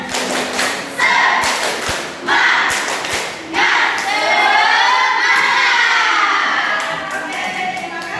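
A classroom of students in Mataram does rhythmic spirit clapping, with loud, evenly spaced thumping claps at first. Lively shouting and cheering from the children then rise and hold over the rest of the stretch.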